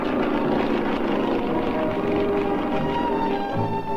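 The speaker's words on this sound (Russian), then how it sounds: "Высший пилотаж на самолетах." An aerobatic sport airplane flies overhead, its engine giving a steady, continuous drone with a slight rise and fall over the whole stretch. No one speaks.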